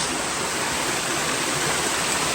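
Water rushes out of a hot spring source at Ikogosi, Nigeria, a dense, even broadband wash that stays steady and close throughout, with no voices over it.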